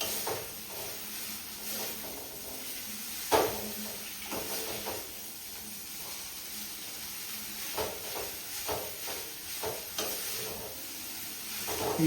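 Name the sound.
stirring and frying veg Hakka noodles in a pan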